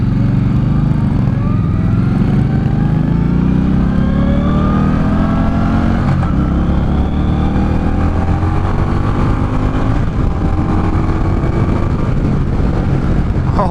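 A 2018 Indian Scout Bobber motorcycle accelerates hard, its loud engine note rising repeatedly through the gears in continuous sweeping pulls, close and with no talk.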